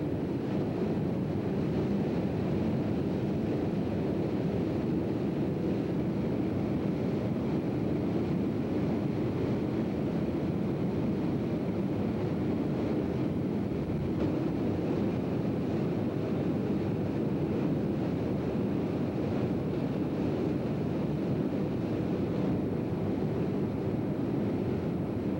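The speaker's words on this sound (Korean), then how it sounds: "바른 쪽으로 흘러내리는 물줄기는 그 바로 유명한 삼단 폭포인 그 용추 폭포에서 흘러내리는 물줄기입니다" Steady broadband roar of rushing water from the Yongchu three-tier waterfall on Dutasan mountain, about 15 m high, continuous and even, with no voices.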